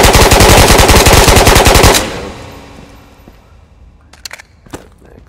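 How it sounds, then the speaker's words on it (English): Sustained full-auto gunfire in the video game Ghosts of Tabor, a loud rapid burst of shots for about two seconds that cuts off into a decaying echo, followed by a few faint clicks and clacks. "Go full auto."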